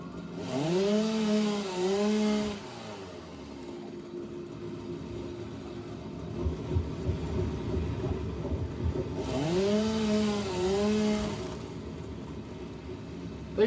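A chainsaw cutting trees in the factory-building video game Satisfactory: two loud bursts of revving engine whine with a lower idling drone between them.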